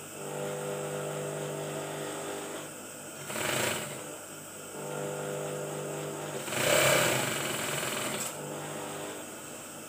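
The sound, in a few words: sewing machine stitching batik shirt shoulder seam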